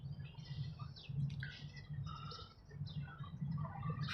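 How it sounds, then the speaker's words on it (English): Small birds chirp and tweet outdoors in downtown Las Vegas at sunrise, with scattered bright calls over a low steady rumble of city background noise. "What are these birds up to?"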